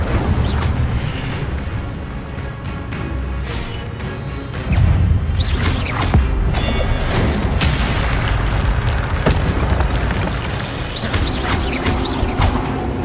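Incendio fire spell cast repeatedly in the video game Hogwarts Legacy, loud booming whooshes and crackling bursts stacked over a dense, continuous game soundscape with several sharp impacts.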